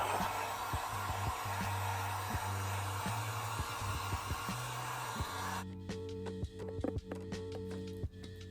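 A heat gun blows steadily close by while warming a motorcycle seat pad on a crash-damaged Kawasaki Ninja ZX6R, a constant whooshing hum that cuts off partway, followed by light handling clicks.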